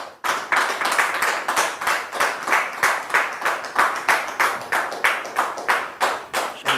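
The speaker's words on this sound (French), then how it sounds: "sous vos applaudissements, bien sûr." A church congregation welcomes a guest with rhythmic, unison clapping. The claps fall in a steady, even beat, each one loud and sharp, and continue without pause for several seconds.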